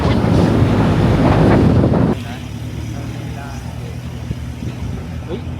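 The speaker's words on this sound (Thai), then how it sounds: "ลมแม่งก็คือแรงมากครับ" Strong wind roars across a microphone on a mountain in Mae Hong Son. The rumble is dense and loud for about two seconds, then drops to a steadier, quieter rush.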